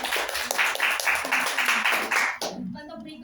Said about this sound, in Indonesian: Boleh tepuk tangannya dulu dong.